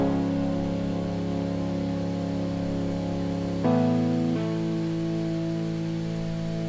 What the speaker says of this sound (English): And then we also have it layered with a piano